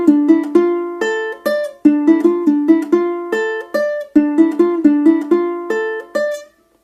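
Ukulele plays the outro of a song, bright plucked notes in a steady arpeggiated pattern over repeated low strums, close and clear, ending on a ringing chord that fades out.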